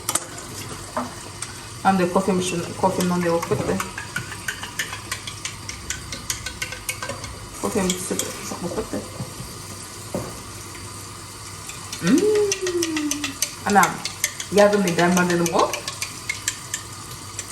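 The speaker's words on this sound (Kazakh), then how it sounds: "Так, мынаны мен араластырайын." A spoon stirs a coffee drink mixed with collagen powder, scraping and clinking in short bursts against the cup between pauses, close and fairly loud, while someone talks over it.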